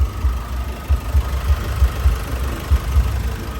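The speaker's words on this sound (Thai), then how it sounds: "ประมาณนี้เสียงเครื่องยนต์" A 2013 Nissan Navara 2.5 VN Turbo diesel pickup idling, a steady low rumbling throb with a rhythmic diesel knock, close up and alone without any voices.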